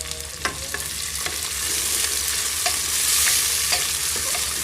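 Onions with a few cashews fry in oil for chicken egg biryani, giving a loud, constant crackling sizzle with intermittent utensil scrapes as they are stirred.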